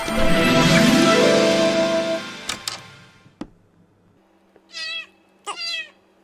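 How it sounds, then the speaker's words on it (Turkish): Two distinct cat meows near the end, clear and close, following a noisy stretch and a few sharp clicks. "Bu kedi de nereden çıktı şimdi?"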